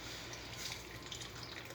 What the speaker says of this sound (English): put hot water